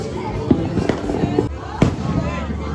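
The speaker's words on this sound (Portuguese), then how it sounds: "Mais um pouco aqui da queima de fogos." New Year's Eve fireworks over the beaches at Ponta Negra and Praia de Cotovelo in Natal, Brazil, heard from a distance as a few scattered booms and crackles over a steady crowd murmur, with a voice speaking now and then.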